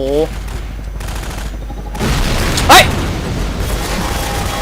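Bursts of Half-Life 2: Episode Two gunfire with a sharp whooshing crack partway through, over a rumbling background.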